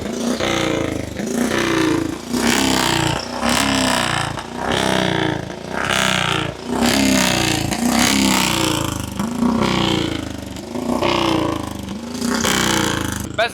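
A 93-year-old speedway motorcycle engine revs hard in repeated loud bursts, roughly one every second or so, with a rough clattering tone up close.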